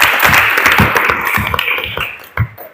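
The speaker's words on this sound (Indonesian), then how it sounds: "Tepuk tangan untuk Hasan" Classroom applause for a student during a welding lesson, a short burst of scattered hand claps that starts lively and thins out, with a couple of louder isolated claps near the end.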